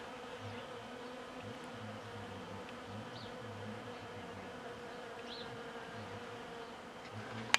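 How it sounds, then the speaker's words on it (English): Many bees buzz in a dense, steady hum that carries on throughout, with no voices. "There's so many bees."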